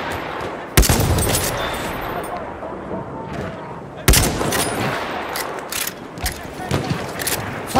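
Machine gun bursts and scattered gunfire crackle through a World War I Somme battle video game, with two sharp loud cracks standing out amid continuous rattling fire and distant battle noise.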